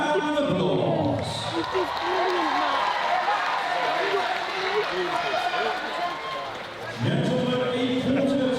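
Crowd applause and cheering at a bodybuilding contest, a dense, loud wash of clapping and voices that dips mid-way and swells again, with an announcer speaking over it.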